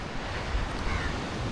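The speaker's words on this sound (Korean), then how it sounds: "계속 이제 파도 소리가 들려서" Ocean waves wash onto the beach at Negombo, Sri Lanka, a steady loud broadband roar mixed with wind noise on the microphone.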